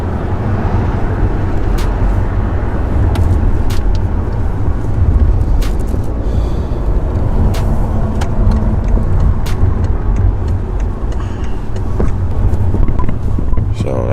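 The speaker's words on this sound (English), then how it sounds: "Welcome to this traffic in LA." Road traffic in Los Angeles, a steady loud rumble of car engines and tire noise heard from inside or beside a moving vehicle, continuous throughout with occasional sharper knocks and no talking.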